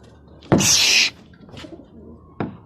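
Pigeons kept by a bird fancier give one loud, close coo-like call with a rushing burst, followed by two fainter short calls, with no talking.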